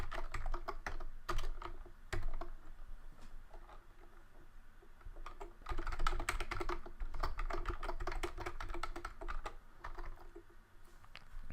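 Keys clatter steadily on a computer keyboard as code is typed, the clicks coming in uneven bursts with short pauses, close and fairly quiet, no talking.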